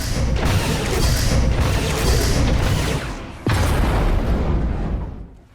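A detonated charge explodes in Star Wars: The Old Republic, a loud sustained rumbling blast with crashing debris, a sharp second impact midway, then fading out.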